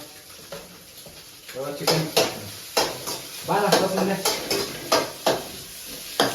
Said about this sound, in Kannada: ಚಿಕನ್ ಮಿಕ್ಸಿಂಗ್ ಇದೆ